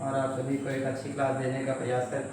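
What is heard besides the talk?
No everyday noises stand out.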